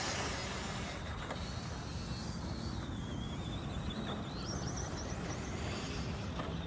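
A Traxxas TRX6 RC truck with a Hobbywing Axe 3300kv motor drives in second gear, giving a steady, continuous electric whine with rising and falling pitch sweeps, alone and fairly loud throughout.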